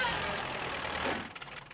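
A small red tractor's engine rumbles steadily, strong at first and then thinning into rougher, uneven chugging as it slowly takes up slack on a pulling line.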